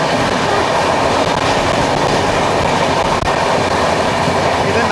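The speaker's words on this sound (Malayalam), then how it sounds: "ഇത് നാന്ദേഡിൽ നിന്ന് അമൃത്സറിലേക്ക് വന്ന സച്ഖന്ദ് എക്സ്പ്രസ് ആണ്." The Sachkhand Express from Nanded to Amritsar rushing past close by, a loud continuous roar of wheels on rails with rattling carriages throughout.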